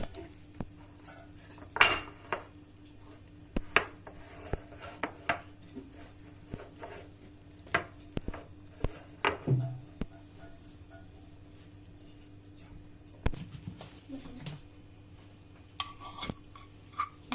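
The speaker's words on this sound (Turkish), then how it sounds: "Şimdi humusumuzu tabağımıza alıp güzelce yayıyorum." Hummus spread onto a plate for a Hatay-style meze, heard as scattered light scrapes and clinks of a utensil against the dish, irregular and close, with quiet gaps and no talk.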